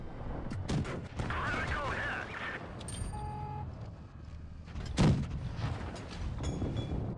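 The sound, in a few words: tank cannon firing in a tank video game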